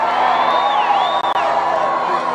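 A large, diverse crowd at an outdoor presidential campaign rally in Kissimmee, Florida, giving off a steady roar of cheering and whoops, with a high whistle rising over a constant wash of voices.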